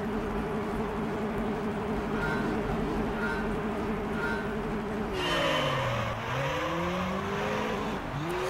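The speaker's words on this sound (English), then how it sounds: "We're driving a PT Cruiser." A Chrysler PT Cruiser races in Gran Turismo 3 in a beginner Stars & Stripes event, its engine droning steadily, then the pitch sweeps up and down through gear changes against opponent cars.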